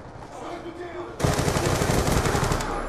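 A Peacekeeper submachine gun in Call of Duty: Black Ops 2 multiplayer opens up in a rapid, loud burst of automatic fire lasting nearly two seconds after a quieter stretch of game sound.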